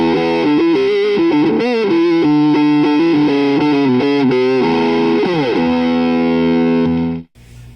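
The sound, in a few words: electric guitar through Crybaby wah, OCD overdrive and EQ pedals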